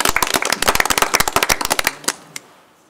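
Applause for a bronze award at a photography awards judging, a dense burst of close, rapid claps from a small group that thins out into a few last claps and ends within three seconds.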